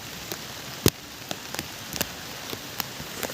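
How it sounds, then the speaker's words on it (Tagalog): Rain falls in a soft steady hiss, with scattered louder drops tapping nearby at irregular intervals. "Kahit sobrang basa natin sa ulan."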